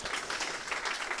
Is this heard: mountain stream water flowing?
no